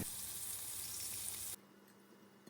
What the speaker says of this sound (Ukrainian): кожен шматок риби обвалюємо у борошні і перекладаємо в розігріту сковорідку із олією. Смажимо до золотистості з обох боків